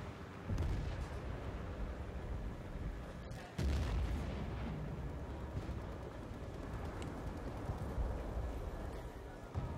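Frag grenade explosions and gunfire in a first-person shooter video game, with booming bursts and continuous battle noise, a loud blast near four seconds over dense rumbling action.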